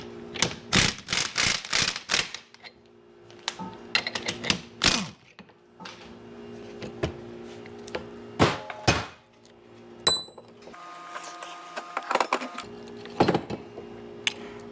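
Metal tools tap, clank and ratchet against a 1971-76 Cadillac Deville rear-wheel-drive double cardan driveshaft while a grease fitting is removed, making a close, irregular series of sharp clicks and knocks with quieter gaps between them.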